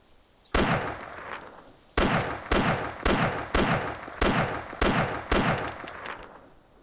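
Shotgun fired in the Arma 2 DayZ Mod Origins video game: seven loud blasts, the first two spaced apart and the rest in a steady quick rhythm, each with a short echoing tail.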